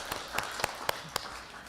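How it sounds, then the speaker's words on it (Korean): A church congregation claps to welcome newcomers at a Sunday service, a few slow, spaced claps heard faintly from a distance. "우리가 박수로 환영해 주시기"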